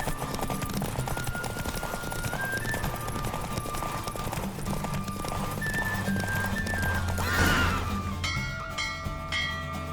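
A horse gallops in a race in The Witcher 3: Wild Hunt, with steady rapid hoofbeats throughout and a neigh near the end, against tonal game music and little talk.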